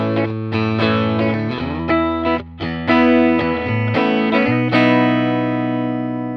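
Distorted electric guitar chords with neck and bridge pickups combined ring out with a chorus-like shimmer, strummed in a steady rhythm with brief pauses, close and fairly loud with no voices.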